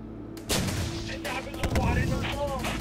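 Gunfire in the war strategy video game Syrian Warfare, a few heavy booming shots and cracks against a suicide bomber, loud and close, with radio-style voices talking underneath.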